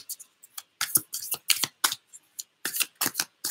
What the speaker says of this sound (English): Right, so let's shuffle.